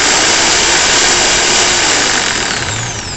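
A Lotus 550W electric jigsaw runs at speed setting 6, giving a loud, steady high-pitched motor whine with a broad buzzing rasp that holds for about three seconds before easing slightly at the end.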